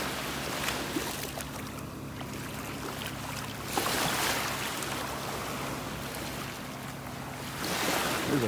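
Gulf of Mexico waves wash steadily onto a beach in North Naples, Florida, a continuous close surf hiss with two louder breaking surges and some wind buffeting, no talking.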